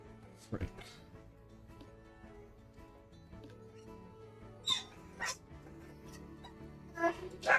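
Dogs barking inside the zoo-management game Planet Zoo, at an Indian carnivore sanctuary: a few short, sharp barks come in scattered bursts over a steady game-ambience bed, with a voice present.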